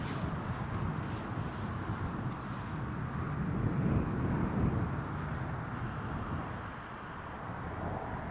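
An Airbus A380 airliner passes overhead near Newcastle International Airport on a gusty crosswind day. It makes a steady, moderately distant broadband roar that swells slightly and then fades, with wind buffeting the microphone and no speech.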